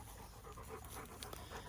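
Rapid, steady panting from a dog close by, quick breaths in an even rhythm amid a busy outdoor background, with no talking.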